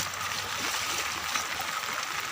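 Continuous rushing, gurgling water fills a flooded village path as someone wades knee-deep through it, steady and close with no pauses.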